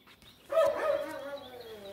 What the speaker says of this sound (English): there's a dog's barking in the background